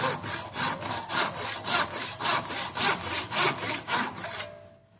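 A hand saw cuts through a wooden dowel during splined dowel making, with about a dozen even back-and-forth rasping strokes, close and clear, before the cutting stops abruptly near the end.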